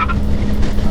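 A BMW R1200GS motorcycle fitted with a Yoshimura R77 exhaust muffler gives a short, loud, close burst of deep, rumbling engine and exhaust noise.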